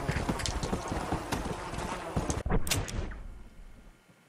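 Horse hooves clip-clop at a steady walking pace in the Western video game Red Dead Redemption Undead Nightmare, loud and close, with a thump and a short snort before fading.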